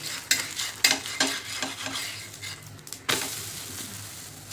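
A thalipeeth flatbread frying in a little oil on a pan, with repeated scraping and tapping of a spatula as it is turned, over a continuous close sizzle.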